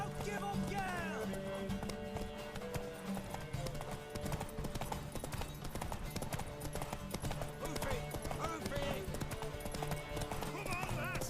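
Horse hooves gallop in a fast, steady clip-clop rhythm throughout a race in The Witcher 3 video game, fairly faint and mixed under music, with occasional voices shouting during the ride.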